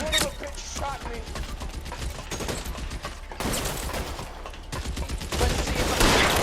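A shootout in the video game L.A. Noire: steady rapid gunfire with sharp cracks and bursts, growing denser and louder toward the end.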